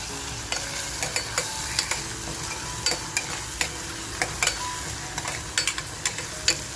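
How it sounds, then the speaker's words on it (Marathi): Onion frying in a pan, a steady sizzle under regular scraping stirs that click and tap every half second or so, close and moderately loud with no talk. "मग आपला कांदा असा छान फ्राय होत आलाय"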